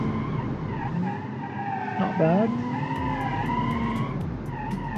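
Hatchback tires skidding and squealing under hard braking, a sustained tonal screech sweeping through the middle of the clip over steady engine noise, with a brief spoken comment.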